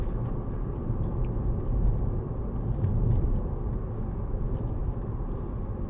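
Inside a Mercedes-Benz C200 CDI BlueEFFICIENCY SE saloon with a 7G-Tronic automatic on the move, a steady low road and engine rumble fills the cabin, subdued and even throughout with no talking.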